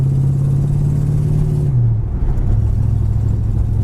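A fuel-injected tuned-port engine in a 1950 Ford street rod pickup with brand new dual exhaust rumbles steadily at idle, its pitch dipping briefly before settling into a lower, even burble.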